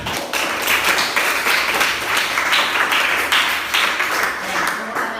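A classroom of students applauding during a lesson at a teacher-training school in Bandung: loud, dense, continuous clapping with voices mixed in throughout.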